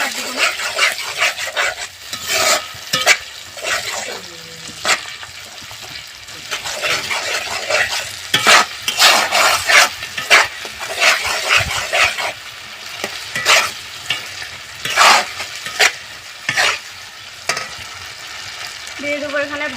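Spice masala for a rooster curry is stirred and fried in a pan, with loud bursts of sizzling and scraping strokes coming in irregular clusters close by, and a few brief sounds in between.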